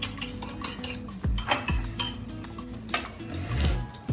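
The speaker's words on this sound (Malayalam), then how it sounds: "ഇത് നമ്മൾ നന്നായിട്ട് വിസ്ക് ചെയ്യാം." A mixture is whisked in a bowl with quick clinking and scraping strokes against the sides, fairly close and irregular, with a few louder knocks and a faint background hum.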